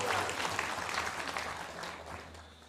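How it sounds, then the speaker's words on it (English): Audience applause for a kirtan singer at an evening kirtan event, dense close clapping from a crowd that tapers slightly over a few seconds. "Please give him a round of applause."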